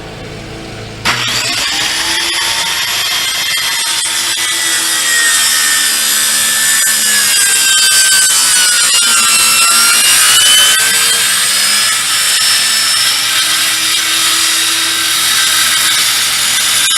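A power saw starts abruptly after about a second and then whines steadily at high pitch, loud and close, cutting through material during a camper air conditioner installation, with the pitch dipping slightly as it bites and no talk.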